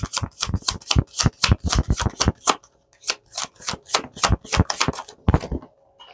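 Tarot cards are riffled and shuffled in a rapid, dense run of crisp flicking bursts, pausing briefly midway, then resuming, close and fairly loud with no talking.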